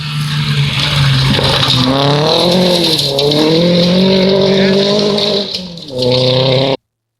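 A rally car at the Zavadka rally roars past at high revs, engine pitch sweeping up and down through gear changes, loud and close for several seconds before cutting off.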